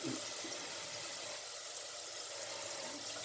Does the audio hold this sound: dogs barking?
no